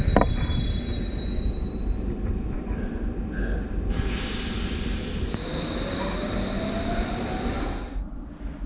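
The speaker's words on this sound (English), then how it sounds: "There's another train coming." A metro train rolls through a tunnel with a constant loud rumble, wheels squealing in sustained high tones partway through, an echoing hiss and no voices.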